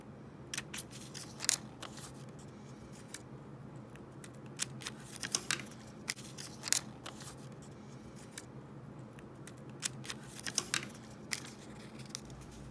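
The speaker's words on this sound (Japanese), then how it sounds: "紙を横向きにして端から5センチの位置に5ミリメートルほどの切れ込みを両サイドに入れます" Scissors snip small slits into a sheet of paper, giving crisp, quiet, closely recorded cuts that come in short scattered clusters over steady faint room noise, with no talking.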